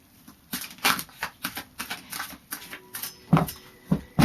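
A deck of tarot cards is shuffled by hand in a run of quick riffling bursts, each a short papery flutter with small gaps between, close and fairly soft, with no talk over them.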